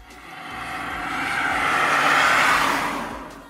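A Nissan Leaf Plus electric car accelerating, a swelling whine and rushing wind and tire noise that builds to a loud peak and then fades slightly, with no voices.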